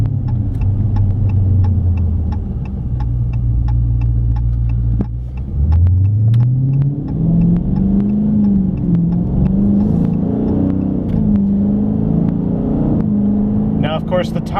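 A naturally aspirated V8 car revs while driving, its deep, close engine rumble holding steady before climbing in pitch about midway and then staying loud and continuous.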